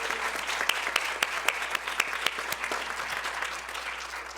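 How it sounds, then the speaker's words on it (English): Applause from a chamber of commerce audience for its platinum members: moderate, fairly sparse clapping with distinct individual claps standing out, continuing evenly. "So let's give our platinum members a round of applause as well."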